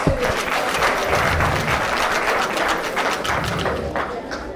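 A crowd applauds during a welcome speech at a World Indigenous People's Day celebration, loud and sustained clapping close by with a few sharper individual claps and thumps in the mix.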